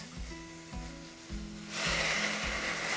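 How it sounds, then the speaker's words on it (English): Soy sauce hits a hot pan of ground beef and erupts into a loud, broad hiss of sizzling partway through, over faint rhythmic thumping underneath. "Sizzle."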